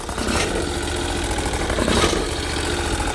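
A Briggs 20HP V-twin engine on a Bolens 1600H tractor runs steadily at a loud, close, even idle, with no voices.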